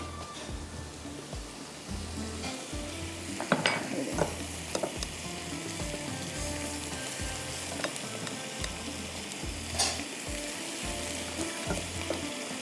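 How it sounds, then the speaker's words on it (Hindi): Mutton sizzling and frying in a pot during bhuna, a steady hiss and crackle close up, with repeated scraping and stirring strokes and a few sharper pops, no talking. "ये मटन जो है, ठीक है, अच्छी तरह से इसको पहले मैं बुनाई करूँगी"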